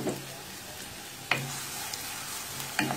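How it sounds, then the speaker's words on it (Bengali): Chopped onions fry in oil with cinnamon and cardamom for a prawn malai curry, giving a steady, moderate sizzle. Two sharper clinks of stirring stand out, one near the middle and one near the end. "এখন দিয়ে দিব আমি 3 টেবিল চামচ পরিমাণ পেঁয়াজ কুচি। পেঁয়াজগুলি আমি ব্রাউন করে নিব।"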